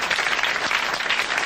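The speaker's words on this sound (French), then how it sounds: "L'abbé Pierrelot de Méault a gagné 1000 francs, vous l'applaudissez très fort." Studio audience at a French comedy radio show applauding loudly for a prize winner, a thick continuous burst of clapping from many people at full volume.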